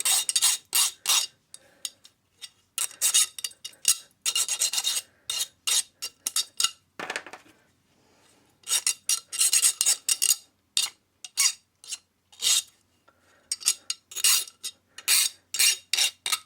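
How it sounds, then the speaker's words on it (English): A hand file deburrs the freshly cut edges of metal pieces in close, loud rasping strokes, arriving in repeated bursts with short pauses and one longer break midway, no talk. "And deburr them."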